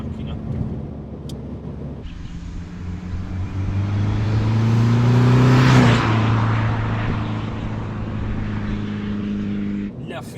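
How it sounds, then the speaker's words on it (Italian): A tuned Stage 3 Fiat Punto III Evo with a 1.6 Multijet diesel engine making over 200 CV revs up loudly. Its harmonic drone climbs to a peak midway, then falls back and holds a steady throb. "La Fiat Punto 3 Evo in configurazione Stage 3 è quanto più si possa chiedere"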